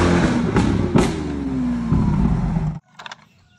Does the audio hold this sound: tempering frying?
no